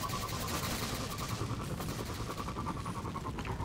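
Rapid automatic gunfire in the video game Destiny 2, a dense, continuous rattle of shots close and loud throughout.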